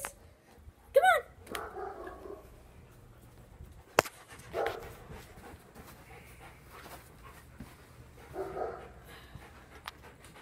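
Puppies yip and whimper in short scattered bursts with soft panting between, close by and moderately loud, with quiet gaps and a sharp knock midway.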